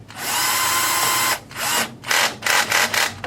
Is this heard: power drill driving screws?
yes